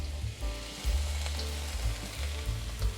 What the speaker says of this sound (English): Add the green parts of the onions, as well as the yellow onions. Now set your heat on a medium-high heat.